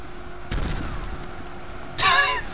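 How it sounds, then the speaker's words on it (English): Explosions in a battle-simulator video game, blasts tearing through a horde of chickens on a beach: a sharp boom followed by a rumbling tail, then a second, brighter burst about a second and a half later. "the explosions are killing chickens."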